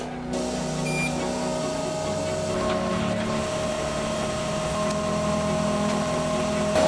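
A laser cutter works through metal plates with a constant mechanical hum and a thin tonal whine that stays level throughout, with no talking.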